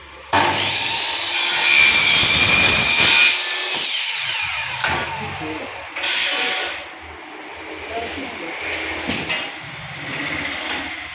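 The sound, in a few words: cutting aluminium 40 series window section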